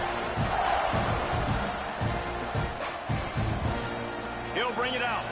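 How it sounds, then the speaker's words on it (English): A football stadium crowd at a South Carolina versus Texas A&M game buzzes after a score, a constant roar with bursts of cheering under a commentator's voice. "this crowd is buzzing after that last score."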